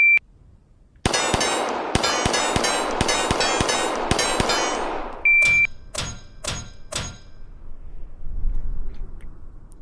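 Gunshots ring out at a range, each shot followed by the metallic clang of steel target plates: a fast run of about ten loud, evenly spaced reports, then a pause and four slower shots, with no talking.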